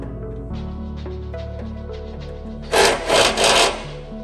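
A drilled hole in a VW T4/T5/T6 van roof is lightly deburred with a hand tool, giving several short scraping rubs near the end after a quieter stretch with background tones.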